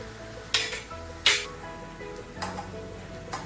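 Sabudana sev sizzling in very hot oil for a fasting snack, with two sharp bursts of frying hiss that quickly fade into a low, steady bubbling and a later softer flare, close and fairly quiet, no talking.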